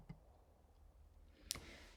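A single sharp computer mouse click, close and quiet, heard during software navigation, with a faint earlier tick and a soft low hum beneath.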